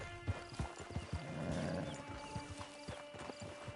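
Horse hooves clip-clop in an uneven rhythm, fairly quiet, with a brief whinny mixed in over a faint background, in a PS4 video game.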